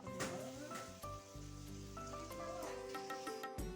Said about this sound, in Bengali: এদিকে প্রায় তরকারিটা ফুটে এসেছে